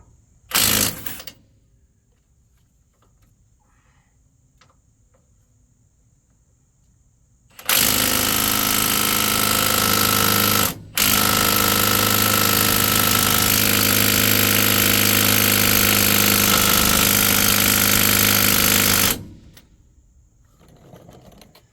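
A mid-torque impact wrench fitted with an Icon swivel attachment works on the front brakes and rotors of a truck: a brief opening burst, then a loud, sustained hammering rattle lasting about eleven seconds with one short break.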